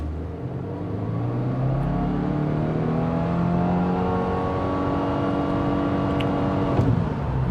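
A 2023 Subaru WRX GT with a CVT launches hard from a brake-torqued start in Sport Plus mode, its engine note climbing steadily and loudly through a long, sustained run toward 60 mph before easing off.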